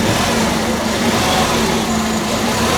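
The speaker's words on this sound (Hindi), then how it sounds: "बट इंजन नॉइस में भाई यहाँ पे फ़र्क आ चुका है। अगर रेव करिए," Engine of a 2023 Tata Tiago XT with its new engine, a steady mid-pitched hum with a constant tone running through it, held at an even level close by and without talk.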